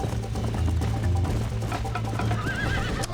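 In Red Dead Redemption, a horse whinnies loudly while its hooves clip-clop at a gallop, and a rising squeal of the neigh stands out near the end with no talk over it.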